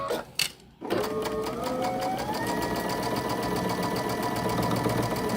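A sewing machine stitching a birdhouse quilt block starts after a short pause and settles into a steady, fast mechanical whir, close and continuous to the end.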